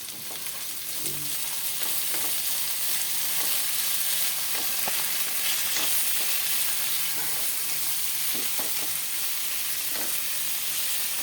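Black beans fry with garlic and onion in a pan, giving a constant loud sizzle with scattered pops and stirring scrapes, no voices.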